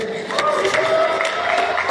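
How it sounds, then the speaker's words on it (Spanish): Audience crowd cheering and applauding for singer Paly Enríquez after her third-place performance at a La Voz Wixarika singing contest, a steady, dense wash of voices and claps sustained for under two seconds. "El aplauso para Pali Enríquez"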